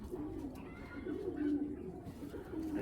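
A female racing pigeon of club stock, held in the hand, coos in low, throaty burbles repeated at close range over a soft background, with no voices.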